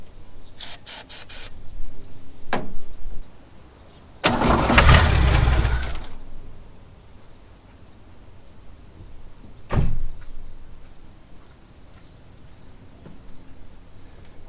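Barn-find 1969 Chevy Bel Air that sat ten years, sprayed with starting fluid, goes through a few short spray bursts, then a couple of seconds of cranking and a brief sputtering catch, with another short burst later.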